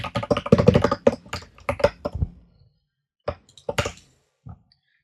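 Rapid keystrokes on a computer keyboard while writing code, a dense burst of clicks for about two seconds, then a pause and a few scattered final taps, close and clear.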